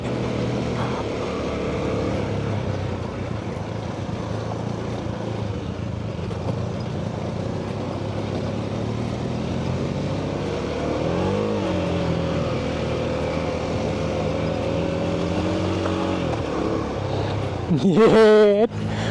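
A truck loaded with ginger climbs a hill with a continuous engine drone that rises and falls in pitch, and a sharp mechanical rattle bursts out near the end.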